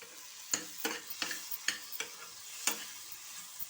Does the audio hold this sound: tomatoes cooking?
yes